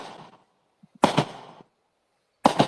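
Fourth of July fireworks burst outside in three separated blasts, a fading crackle, then two sharp bangs about a second and a half apart, each with a brief rumbling tail.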